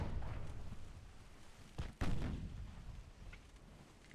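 Distant naval gunfire in Ultimate Admiral Dreadnoughts, a faint low rumble of battle with a couple of muffled booming shots around the middle, no talking.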